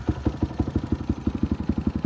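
A Yamaha NJMX 177cc motorcycle engine with a PWK 28 carburetor runs just after starting, a close, steady rapid putter of even low pulses at idle.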